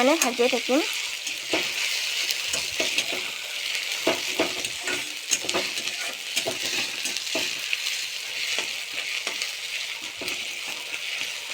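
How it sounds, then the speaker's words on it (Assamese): Steady loud sizzling of ginger and garlic frying in a hot pan, with intermittent scraping and clinks of a utensil stirring throughout, no voices. "সেইখিনি অকণমান টাইম ভাজিয়ে থাকিম"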